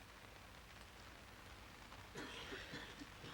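Heavy rain falling outside during an outdoor public talk at Brockwood Park, a steady, dense wash of drops with a slightly louder, crackling patter in the last second.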